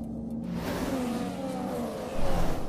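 A Formula 1 car engine in F1 2016, a steady, loud, high-pitched drone that holds throughout and swells slightly near the end.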